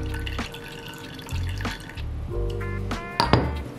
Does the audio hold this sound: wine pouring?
yes